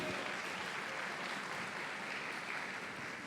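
A church congregation gives a round of applause to the Lord during a family worship service, a steady, even roar of clapping that holds at a constant level throughout.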